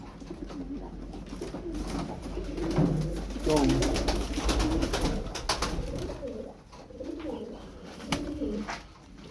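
Crested çakmaklı pigeons coo repeatedly at close range amid a continuous hum of background noise, with a brief spoken word partway through.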